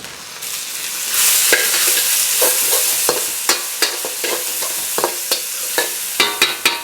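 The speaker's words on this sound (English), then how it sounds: "I'm basically gonna stir fry this until it's fragrant" Kimchi stir-frying in a hot pan: a steady loud sizzle with repeated scraping and clinking strokes of a utensil, growing more rhythmic toward the end.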